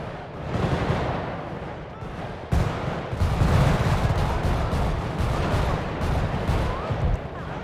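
Minigun fire in the video game GTA V during a gang war in a favela rattles in dense, continuous bursts with heavy booming blasts, loud and sustained, while a player talks over it.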